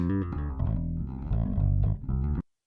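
A deep bass guitar recorded through an ESI Amber i1 audio interface plays a short run of notes, full and warm, alone and up close, cutting off abruptly at the end.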